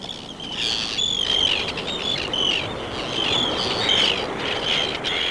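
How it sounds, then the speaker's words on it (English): Arctic terns calling over the Shetland coast in summer, a run of harsh, repeated chirping calls from several birds at moderate distance over steady outdoor background noise, with no voices. "The arrival of the Arctic tern heralds the brief Shetland summer, a much-loved bird, the swallow of the northern seas."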